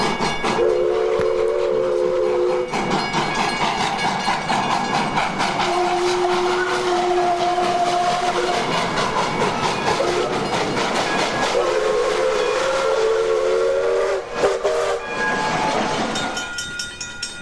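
Grand Canyon Railway steam locomotive number 18 sounds its whistle in several long, loud, steady blasts with brief gaps, over a continuous rumble of rolling train noise.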